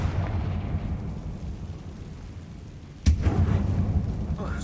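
The Confringo blasting spell goes off in the video game Hogwarts Legacy with a sudden loud boom, breaking a low rumbling ambience and trailing into a rough, crackling roar.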